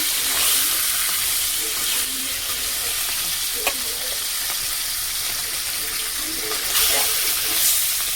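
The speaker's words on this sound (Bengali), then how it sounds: "রুই মাছের মাথা বড়, ভালো করে ভেজে নেব।" A large rohu fish head fries in hot oil, giving a loud, dense, steady sizzle with a few brief clatters and louder bursts of spitting.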